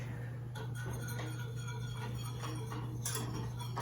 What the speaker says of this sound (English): And so now let me add the spice. Just whisk that in.